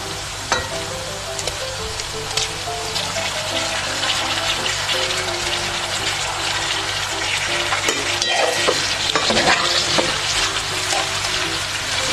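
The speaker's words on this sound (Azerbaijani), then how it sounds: "Və yenə qovururuq. Ətləri əlavə edirik." Carrots and meat frying for Uzbek plov, a steady dense sizzle running throughout, close and fairly loud, with a few sharper crackles and bursts partway through and no talking.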